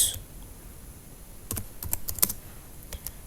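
Someone types an iptables command on a computer keyboard, a quiet run of irregular, crisp clicks in close succession that speeds up toward the end.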